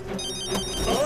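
A telephone rings close by, a bright electronic tone that swells briefly over a soft background hum.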